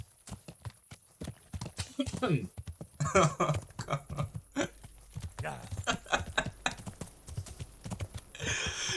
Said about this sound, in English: let's get on my teleporting horse.